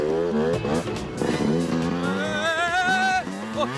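Cartoon scooter engine in an animated 3D race, a continuous revving whine with rising and falling pitch, close and loud, mixed with music-like tones and brief speech.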